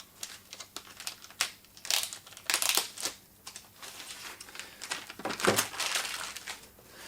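Crinkling and tearing of plastic packaging as a taped Yamaha remote control is pulled free, a run of uneven close rustles and crackles with no talk.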